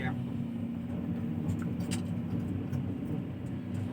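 A Kobelco SK200-10 excavator digs into hard laterite soil, its diesel engine droning loud and steady throughout with a heavy low rumble and no break.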